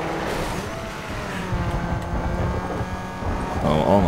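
A Peugeot engine in Need for Speed Underground 2 hums and revs steadily, with a rising pull near the end, mixed under excited talking.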